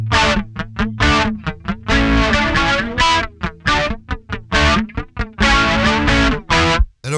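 Electric guitar plays a choppy, distorted riff through a Made-in-Japan Boss BF-2 flanger pedal, short loud stabs and bends with a swirling, sweeping tone, close and alone.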